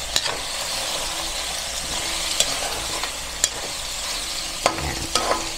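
Pork belly with tofu and black beans stirred in a sizzling pan, a steady loud frying hiss with occasional sharp clicks of the utensil against the pan, close up and without speech.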